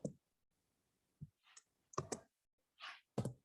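Sparse, quiet computer mouse clicks and short bursts of keyboard typing come in isolated taps with silent gaps between them, close by and with no talk.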